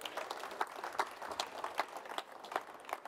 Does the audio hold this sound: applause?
yes